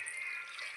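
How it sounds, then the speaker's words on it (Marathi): Water poured into lightly sautéed rice for masala bhat, enough to fully cover the grains; a steady, soft trickling pour with no speech. "त्याच्यामध्ये आता आपण पाणी घालूया. तांदूळ पूर्ण बुडेल इतकं पाणी घालायचं आहे."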